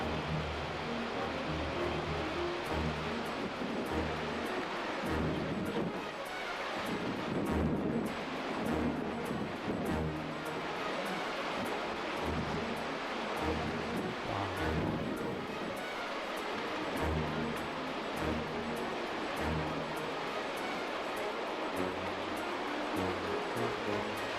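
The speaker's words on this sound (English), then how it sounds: "That water is strong and moving fast," Strong, fast-moving hurricane floodwater rushes in a steady, loud roar with turbulent surging and a windy, rumbling texture, continuous for the whole stretch without speech.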